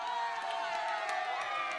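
A large crowd cheers and shouts for the Gyeongcheon-myeon team at the 2019 Wanju county residents' festival, a dense, steady roar of voices that holds loud for the whole moment.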